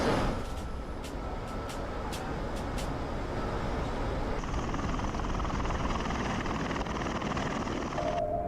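A Bell Boeing V-22 Osprey tiltrotor aircraft flies on a military mission over the Gulf toward Al-Assad, Iraq, giving a loud continuous rotor and engine roar with a few sharp clicks near the start.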